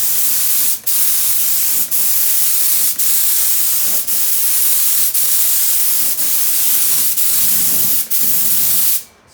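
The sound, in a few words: paint sprayer spraying Dixie Belle chalk paint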